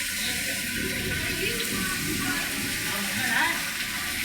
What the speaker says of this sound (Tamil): தண்ணி ஊத்துரு பாரு.